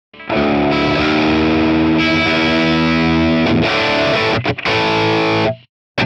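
A Les Paul electric guitar through a heavily overdriven amp plays sustained distorted chords, loud and close, with brief breaks before the final ringing chord cuts off.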